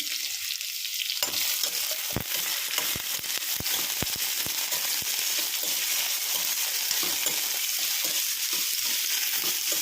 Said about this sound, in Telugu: కొంచెం క్యారెట్ ఫ్రై అవ్వాలి